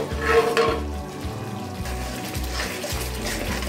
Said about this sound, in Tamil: நல்லா கொதித்து வேகிட்டு பாருங்கள்